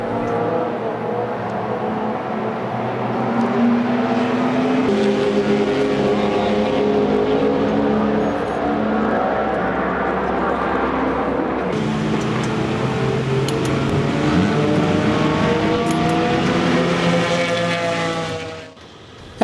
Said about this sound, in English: the cars have started to come in for their mandatory pit stops